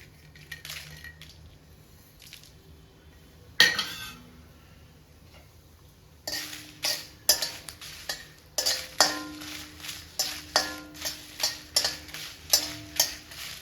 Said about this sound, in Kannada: ಸ್ವಲ್ಪ ಎಣ್ಣೆ ಹಾಕ್ತಾಯಿದ್ದೀನಿ ಸ್ವಲ್ಪ ಒಣಮೆಣಸಿನಕಾಯಿ ತೊಗೊಂಡಿದ್ನಲ್ಲ ಉರಿತಾ ಇದ್ದೀನಿ